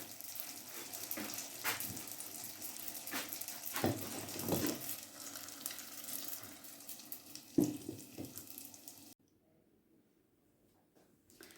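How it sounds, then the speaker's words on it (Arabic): Spices frying in hot oil for a chicken liver tagine, a steady close sizzle with occasional stirring clatter and pops, cutting off near the end to near silence. "نحرقوا وسط الزيت توابل"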